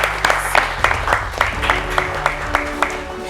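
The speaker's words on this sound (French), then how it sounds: "on vous applaudit bien fort." Individual hand claps ring out in a brisk, regular rhythm at the final of a school competition in Grand-Bassam, with a faint voice underneath.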